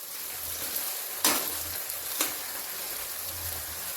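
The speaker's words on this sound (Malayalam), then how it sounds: "മീഡിയം ഫ്ലെയിമിൽ ഇട്ടിരുന്ന് വറുത്ത് കോരിയെടുക്കാം." Ginger slices frying in oil over a medium flame, a steady low sizzle broken by two sharp crackling bursts as the pieces are stirred.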